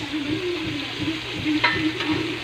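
Tomatoes sizzling and frying in oil in a pan while being stirred for tinola, a close, steady crackle with soft rhythmic scrapes of the spoon, no talking.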